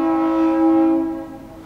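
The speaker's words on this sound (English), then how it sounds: "hear the train outside?" A low, steady horn-like drone with rich harmonics, swelling slightly and then fading, like a train sounding nearby outdoors.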